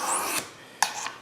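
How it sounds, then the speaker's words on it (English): A knife blade is drawn across a 325 grit mesh sharpening surface, making two short, close, raspy strokes with a brief pause between them. "I will start to sharpen this knife on the 325 grit mesh"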